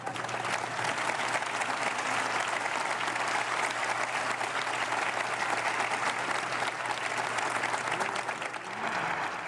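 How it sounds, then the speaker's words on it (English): Canadian and Mexican officials applaud in the Mexican Senate, a steady, loud wall of clapping throughout the chamber that eases slightly at the very end. "Trudeau received applause from Canadian and Mexican officials alike"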